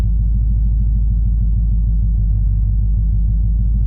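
A 1968 Dodge Charger with a swapped-in 5.7 Hemi engine idles as it warms up, giving a steady, close, deep low rumble with no other sounds.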